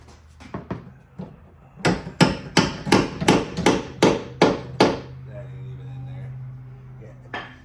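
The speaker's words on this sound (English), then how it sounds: "We're gonna need a little hammer tap here." Sharp metallic hammer taps on a strut nut while replacing rear struts on a Jeep Renegade, a few quick ones, then a steady run of about nine evenly spaced strikes, close and loud, followed by a quiet hum.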